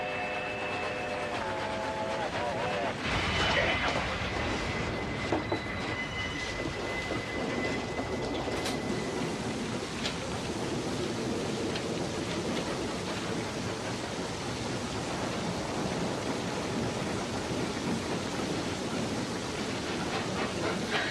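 A train running on rails in a western film makes a steady, dense rumbling clatter that stays even for about twenty seconds, with a brief high whistle-like tone near the start.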